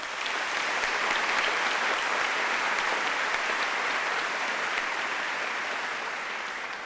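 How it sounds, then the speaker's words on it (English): A large crowd at the 2019 South Windsor High School graduation applauds steadily, a broad, continuous clatter of many hands heard from some distance, holding an even level throughout. "A round of applause for all of them."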